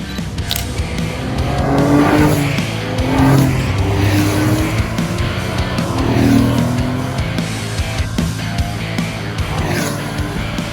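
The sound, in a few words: early Porsche 911 driving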